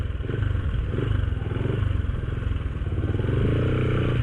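Motorcycles and scooters ride out of Sangab Cave, a steady mid-pitched engine drone with rattling and clatter that rises toward the end, fairly close and loud.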